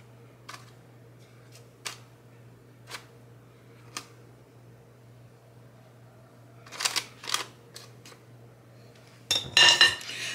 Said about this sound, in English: I'm gonna get a knife so that I can just kind of rake all this stuff off